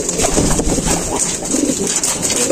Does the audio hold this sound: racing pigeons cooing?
yes